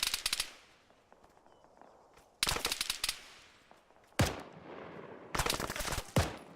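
Bursts of automatic rifle fire from Arma 3 co-op gameplay, several loud rapid volleys separated by brief pauses, each burst sharp and close with some echoing tail.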